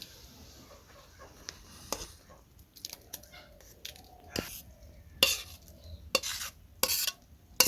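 A pot of cooked sweet, sour and spicy mango pickle lifted off a village stove: sparse metallic clanks, scrapes and knocks of cookware, close and irregular, with quiet gaps between them.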